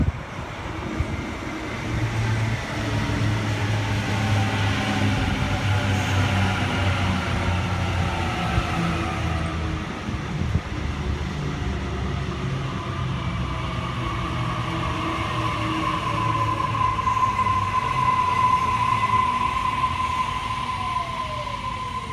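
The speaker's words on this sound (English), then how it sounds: "We have a Waratah approaching platform 2, Richmond service." A Sydney Waratah electric train, a Richmond service, pulls into platform 2 at Thornleigh station with a long, steady rumble and a rising electric whine that grows more prominent as it nears, with no talk.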